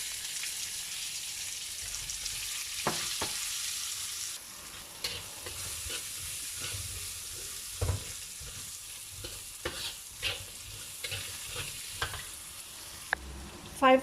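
Cumin seeds and an onion fry in oil for a spiny gourd dish, a soft crackling sizzle at first that settles lower, broken by occasional stirring clinks and scrapes of a utensil, with no talking.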